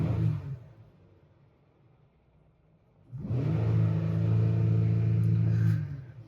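A Jeep Wrangler 3.6L engine with an oil pump problem revs up hard from a low idle rumble and holds a loud, steady high-rev drone for about three seconds before easing off, with no voices.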